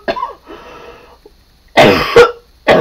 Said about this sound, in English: I'm so sorry for coughing.